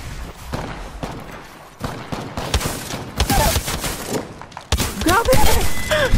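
The Mozambique shotgun fires in a video game, loud close blasts of gunfire that thicken into rapid, dense volleys toward the end.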